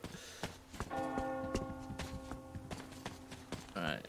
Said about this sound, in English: Do you hear that bell?